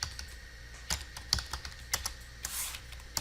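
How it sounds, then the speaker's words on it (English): Typing on a computer keyboard at a network terminal, a few scattered clicks and short bursts of keystrokes, close and fairly quiet with pauses between. "Got to type that correctly."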